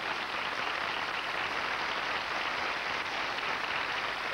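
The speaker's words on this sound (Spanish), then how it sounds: "Para el señor Vargas, fuerte el aplauso para uno de los mejores voces que hemos tenido" Audience applause in a television studio, a steady even wash of clapping at moderate distance that holds unbroken throughout.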